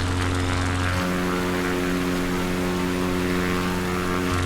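Propeller aircraft engine droning steadily in flight on a scenic tour over Ninety Mile Beach, New Zealand, a loud continuous hum with strong steady tones, heard from inside the cabin with no talking.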